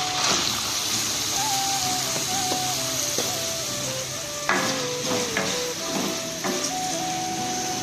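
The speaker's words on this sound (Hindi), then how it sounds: "अब मैं प्याज ऐड करूँगी।" Onions frying in a kadhai on a gas stove in a home kitchen, a steady bright sizzle with hissing throughout, overlaid by an intermittent tonal electronic melody and a few clinks.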